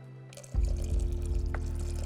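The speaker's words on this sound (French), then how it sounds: "un verre d'eau pour la dilution de la sous-couche" A glass of water poured into primer in a clean bucket, a sudden gush starting after a brief hum, then a continuous close splashing pour.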